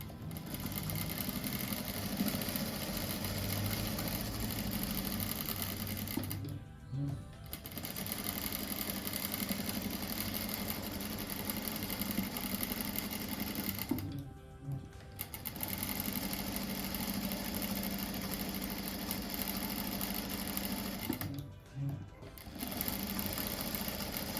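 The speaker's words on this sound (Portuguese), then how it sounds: "Agora eu passo uma costura em toda a volta, daí acerto as pontas." Sewing machine running a seam around the edge of a quilt block for a rug, with a steady, fast mechanical whir in long bursts broken by two brief pauses, close and without talk.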